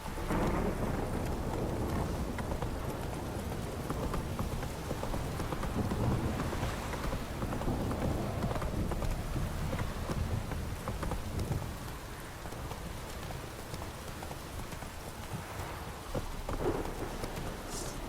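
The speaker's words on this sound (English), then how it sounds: "This downpour's a bastard, it is." Steady heavy downpour with rumbling thunder in the video game The Witcher 3, a dense continuous wash of rain over deep low rolls, loud and close throughout, with a faint clopping of horse hooves underneath.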